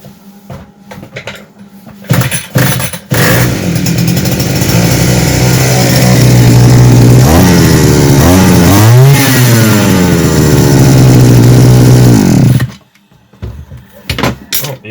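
A TATA Agro Moto petrol brush cutter engine after carburettor work starts with a few sputters, then runs loud and close with a steady buzz, revving up twice, before cutting off to near silence.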